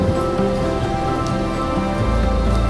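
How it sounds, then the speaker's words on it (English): Steady outdoor rain falls on paved surfaces at a shopping center, a dense continuous patter with no voices. "It's still raining"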